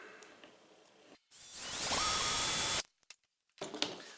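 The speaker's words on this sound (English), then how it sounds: "I'm just going to drill a hole in each of the flanges that I've bent out" A loud, steady whine of a power drill biting into a bent metal flange of a bottle cap for about a second and a half, with a rising pitch, between quieter handling noises.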